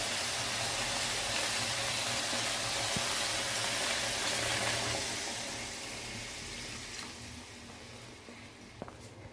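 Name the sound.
hot water poured into fish curry pan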